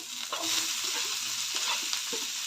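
Capsicum, garlic and onion fry in a pan with a steady, close sizzle, broken by a few soft stirring scrapes.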